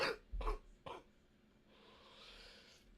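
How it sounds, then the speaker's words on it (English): A person coughs three sharp times in quick succession, close and fairly loud, followed by a quiet stretch of faint breathy room noise. "Oh, fuck this overdose cough."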